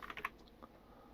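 A few quick keystrokes tapped on a computer keyboard while entering a name into a website form, clustered near the start and then trailing off into quiet.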